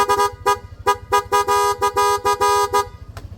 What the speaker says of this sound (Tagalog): So sound check tayo sa Bosch Strider horn.